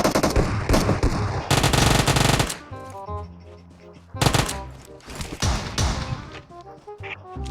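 Automatic gunfire in PUBG cuts down a bot, with loud rapid bursts of shots separated by short gaps and scattered single cracks, set against game sounds.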